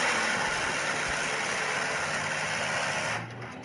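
Twin-turret AK-630M2 autocannon firing in War Thunder, a loud continuous roaring buzz that holds steady for about three seconds before dropping off sharply.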